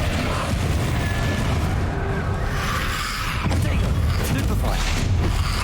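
Confringo blasting spell going off in the Hogwarts Legacy video game, a dense roaring burst of explosive noise with rumbling booms and crackling debris, sustained loud across the span with several sharper hits near the end.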